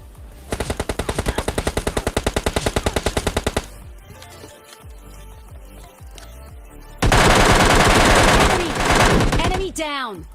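Gunfire in the PUBG Mobile Lite mobile game: a rapid automatic burst of evenly spaced shots, then quieter scattered pops, followed by a loud sustained stretch of dense firing, all close and forceful.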